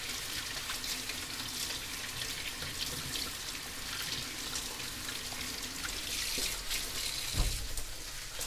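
Vegetables being washed under a running kitchen tap, with a steady soft stream of water and light splashing, faint and close, with one brief thump near the end.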